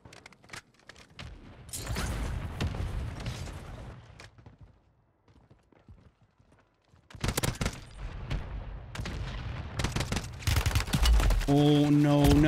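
SVA 545 rifle fire in the video game Warzone comes in loud, close bursts, with a brief lull in the middle before heavier firing resumes amid game effects and speech.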